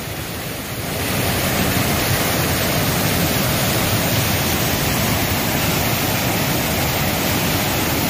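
A river below a waterfall on the Appalachian Trail roars as dense, steady rushing water, loud and unbroken after a brief softer start.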